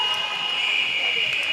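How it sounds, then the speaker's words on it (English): A netball game buzzer gives a steady, sustained electronic tone throughout, moderately loud over the indoor court ambience. "slimmed down the options as the buzzer goes"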